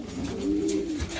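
Racing pigeons, back from a 50-mile toss and crowding to water, give a low, steady cooing close by, a continuous throaty murmur with faint rustling around it.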